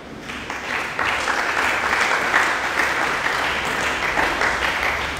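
A church congregation at a worship service breaks into applause, a dense, sustained wash of clapping hands that starts abruptly and continues steadily to the end.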